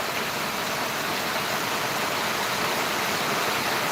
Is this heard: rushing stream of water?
yes